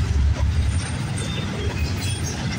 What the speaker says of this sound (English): we're lucky we can get some Norfolk Southern trains as well